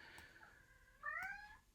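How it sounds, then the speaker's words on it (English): A hungry cat meows in a quiet room, a faint short call followed by a louder drawn-out meow, heard alone without talk. "Now you can hear my cat. She wants food."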